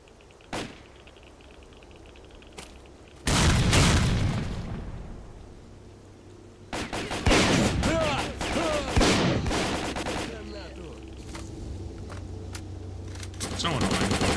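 Gunfire in S.T.A.L.K.E.R.: Call of Pripyat comes in loud bursts of rapid automatic shots with heavy booming reports, separated by quieter gaps, with a few isolated single shots and lingering echoes.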